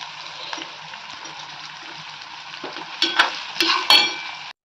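Onions tipped into a frying pan give a steady close sizzle, with a few louder crackling bursts and stirring scrapes toward the end.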